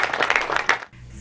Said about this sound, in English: I want us to give a big round of applause to the partners in this pursuit